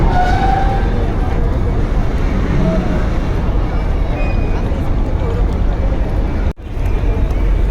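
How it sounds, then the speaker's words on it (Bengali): Passenger launches manoeuvring at a river ghat on the Barishal–Dhaka route during Eid, one pushing ahead while another goes into reverse gear: a loud, continuous engine rumble and wash of noise, with indistinct voices mixed in. "সুন্দরবন দশ এগিয়ে যাচ্ছে কীর্তনখোলা দশ ব্যাক গিয়ার দিচ্ছে"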